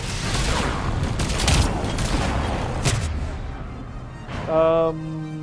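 Rapid gunfire from a weapon in the video game Mass Effect 3, a loud dense burst of shots over the first few seconds, followed by an electronic game tone.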